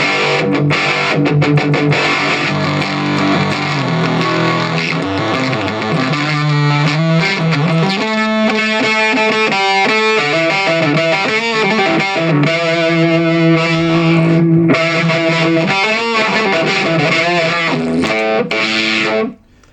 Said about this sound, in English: Pretty standard sort of distortion.